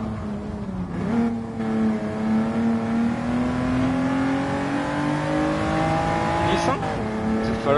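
Race cars in Gran Turismo 7, including a Honda NSX and a Toyota, hold a continuous engine drone that climbs slowly through the gears, with a shift near the end and a voice talking over it throughout.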